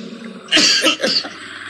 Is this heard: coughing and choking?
yes